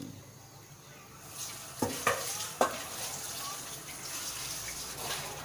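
Mushrooms tipped into a pot of boiling northern Thai mushroom curry, then stirred: a few sharp clanks and scrapes of a utensil against the pot over a steady bubbling hiss, fairly close.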